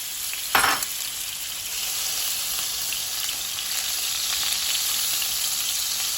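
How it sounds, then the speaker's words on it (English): Butter melting into hot oil in a pan, cooked over medium-low heat for garlic shrimp (camarones al ajillo): one brief crackling burst as it goes in, then a steady, even sizzling hiss throughout. "Now that the oil is hot, let's go ahead and add the butter."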